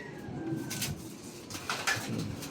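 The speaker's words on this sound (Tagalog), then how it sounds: "Ito ang ating mga ibon." Pigeons in a racing pigeon loft coo softly in a few low, rounded calls, with faint bird movement and background hiss between them.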